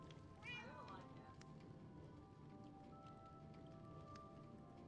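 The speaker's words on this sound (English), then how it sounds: "that's a cat" Minecraft cat meowing once, a short rising game meow near the start, followed by soft background patter and faint in-game tones; a player talks around it.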